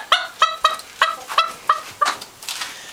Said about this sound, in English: It's a little banny rooster.